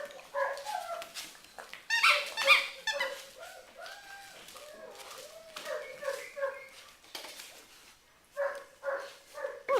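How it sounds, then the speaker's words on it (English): A male puppy plays with a squeaky toy, producing repeated high squeaks in bursts mixed with yips and soft whimpers, close and fairly quiet with brief pauses between. "Look at a good puppy play with the toy."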